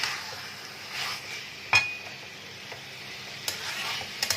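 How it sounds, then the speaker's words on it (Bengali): Chicken being sautéed with oil for a raw mango mustard curry sizzles steadily in a pan, broken by sharp metal spatula scrapes and clinks, with no talking. "এখন চিকেনটাকে একটু ভালো করে আগে কষে নেব"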